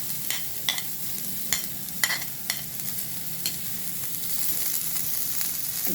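Onions and green chillies frying in a pan, a steady close sizzle with several sharp scraping clicks of a spatula stirring through the first half, no voices.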